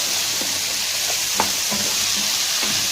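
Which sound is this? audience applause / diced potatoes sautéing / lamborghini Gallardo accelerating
diced potatoes sautéing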